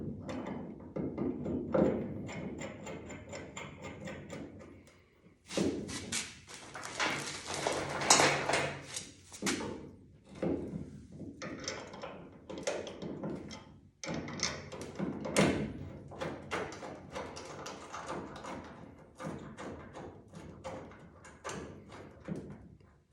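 Metal clanks, thumps and rattles come as the driver's door of a 1969 Chevy Nova is mounted and tried out during a restoration. The handling noises are close and irregular, with brief pauses between them and no talk.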